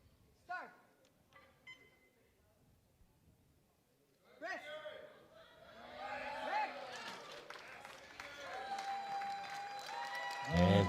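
Crowd applause and cheering at a bench press world championship, swelling from scattered reactions into sustained clapping and cheers, with a commentator talking over it.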